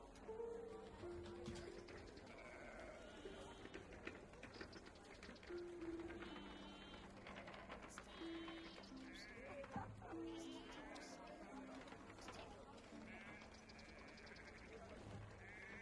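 Sheep bleat repeatedly in short wavering calls, a scattered flock sounding at moderate distance beneath steady overlapping conversation.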